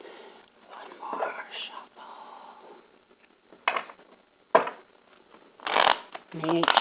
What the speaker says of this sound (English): Make sure and mix those cards up good.